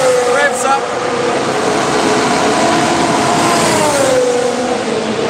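Mercedes W10 2019 Formula 1 car engine revving up during testing, a steady loud whine with rising and falling pitch, heard under a commentator's voice.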